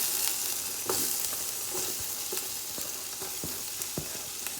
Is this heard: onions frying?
yes